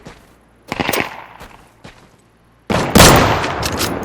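AK rifle test-fired in the survival shooter Deadside: a couple of quick bursts of sharp gunshots, then isolated single cracks with gaps between, and finally a louder close burst ringing out with echoing tail.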